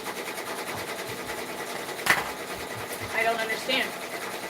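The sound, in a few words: 10-needle embroidery machine stitching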